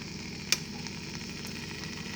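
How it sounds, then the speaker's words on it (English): Chicken thighs sizzle steadily in hot oil in a Ninja Foodi pot, with a constant crackling hiss and one sharp pop, close up and with no talking. "Wow, we're already sizzling."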